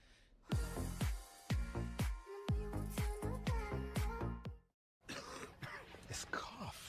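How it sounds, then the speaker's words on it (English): A series of hoarse, chesty coughs in quick succession from a person with heavy mucus, loud and close, followed by a brief pause and then a rougher, breathy throat sound. "This cough."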